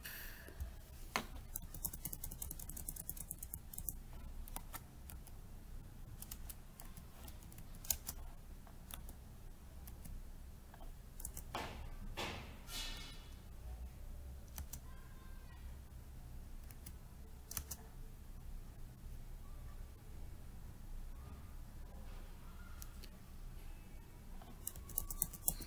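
Typing on a computer keyboard while writing a first Java program, with soft, irregular key clicks running through a quiet room, heaviest early on and sparser later, with no talk over them.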